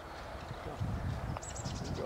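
Horse hooves clip-clop in a soft, fairly even rhythm during a training session, mid-distance under steady background noise, with a brief high chirp near the end.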